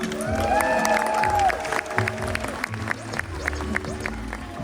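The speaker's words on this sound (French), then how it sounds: "Un tonnerre d'applaudissements." An audience at a Star Wars Day appearance of a BDX droid applauds and cheers, with clapping and shouts mixed with gliding whistle-like electronic tones near the start, all fairly loud and busy.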